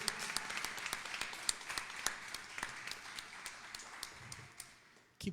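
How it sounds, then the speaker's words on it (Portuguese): A church congregation claps together in a continuous patter of many hands, moderately distant and fairly quiet, fading near the end. "Vamos aplaudir o Senhor por isso."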